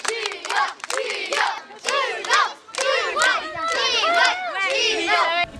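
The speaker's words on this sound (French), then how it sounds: "on vous applaudit quand même parce que vous montez sur scène" An audience at an outdoor Fête de la Musique teaching concert cheers and shouts loudly, many voices rising and falling in excited whoops over a few faint claps, with no pause in the noise.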